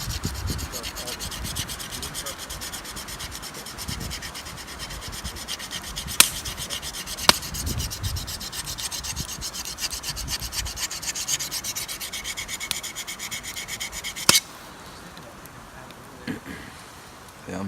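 A blade edge is rubbed against a handheld sharpening implement outdoors in the Adirondacks, giving a continuous close scraping and rasping texture with a few sharp clicks before it quiets near the end.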